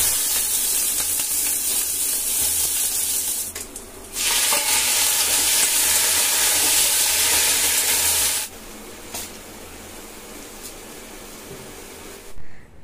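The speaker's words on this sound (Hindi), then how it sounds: "मैक्रोनी हमारी बढ़िया तरीके से उबल गई है" Macaroni cooking in a pot, giving a loud steady hiss and sizzle that stops briefly, resumes, then drops to a quieter bubbling background near the end.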